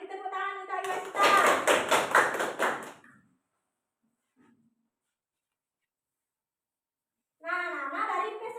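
Children in an elementary school classroom clap together in a short, near burst of roughly two seconds, framed by a teacher's speech before and after and then silence.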